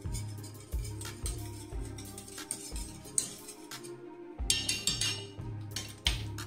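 A spoon stirs grits in a cooking pot, making repeated close scraping clinks against the metal in an uneven rhythm, with a short pause midway before the stirring resumes.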